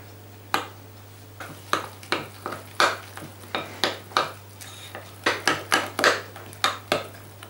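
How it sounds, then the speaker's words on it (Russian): Pumpkin and orange cupcake batter is mixed with a spoon in a bowl, giving a series of about eighteen sharp scraping clinks in an uneven rhythm, close and alone over a faint steady hum. "И все это уже при помощи ложки смешаю до однородного состояния."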